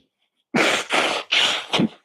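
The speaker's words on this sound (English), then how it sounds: "Sneezing and blowing my nose down the microphone" A person sneezes and blows their nose right into a microphone, making four loud, harsh bursts of breath noise close up after a moment of silence.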